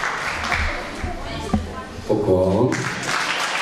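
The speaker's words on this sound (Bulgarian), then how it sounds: "И заслужени аплодисменти." Audience applause follows a children's concert performance, a steady broadband patter running through most of the clip while a voice speaks over it.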